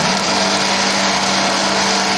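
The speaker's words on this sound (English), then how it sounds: "Rotate your blender from maybe 1, 2, or to the rotating button." An electric kitchen blender runs at a constant speed while making moimoi, giving a loud, steady whirring hum with no pauses or change in pitch.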